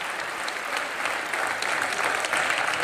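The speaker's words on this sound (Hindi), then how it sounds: "ये हमारी ऑडियंस बड़ी कमाल की है, ये मार पिटाई पे जरूर ताली मारती है" A studio audience on a Hindi television talk show breaks into steady applause. The dense clapping holds at an even level and builds slightly toward the end, with no voices over it.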